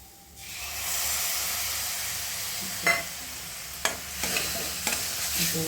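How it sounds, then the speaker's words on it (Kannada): Tamarind juice hits a hot pan of chitranna and bursts into a loud hiss, which settles into a steady close sizzle with a few sharp stirring clinks and scrapes. No one speaks. "ಇವಾಗ ಹುಣಸೆ ರಸ ಹಾಕೋತಾ ಇದ್ದೀನಿ ನೋಡಿ"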